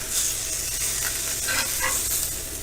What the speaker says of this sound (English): You want to sear both sides to get a nice sear on it, so you lock the juice inside of it.